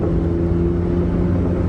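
An engine runs steadily at about half throttle, giving a continuous droning hum with a strong low tone and no clear change over the short stretch. No voices.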